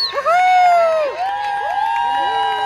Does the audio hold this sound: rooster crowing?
no